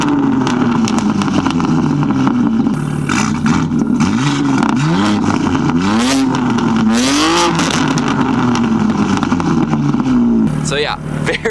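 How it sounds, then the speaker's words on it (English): A loud car exhaust idles and revs in several sharp bursts, its deep rumble steady underneath, close and dominant throughout with someone talking over it at times. "As you guys can hear, that idle is really loud."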